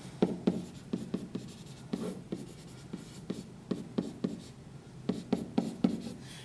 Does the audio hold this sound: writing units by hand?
yes